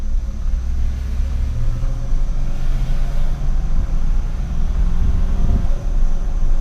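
A modified pickup truck engine runs at a steady low idle, a deep close rumble that holds evenly throughout with slight shifts in tone and no voices.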